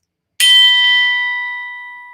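A single bright chime marks the start of the next topic, struck cleanly out of silence, then ringing on with a long, slowly fading tone.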